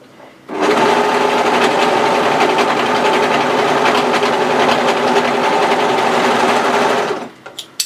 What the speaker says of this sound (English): place those 3 layers and overlock up that short side seam run